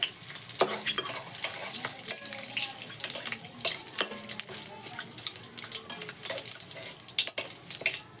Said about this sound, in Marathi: आता त्याच्यामध्ये आपण तेजपत्ता टाकतोय आणि कढीपत्ता हे चांगलं असं परतून घ्यायचं